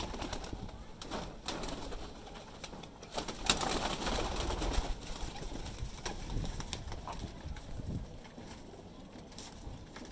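Pigeons and baby pigeons in a loft give soft cooing calls over a steady low outdoor hum and faint wind, fairly quiet throughout.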